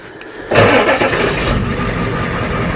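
A diesel car engine restarting after running without coolant, a sudden loud crank-and-catch at about half a second that settles into a steady, close idle for the rest of the clip.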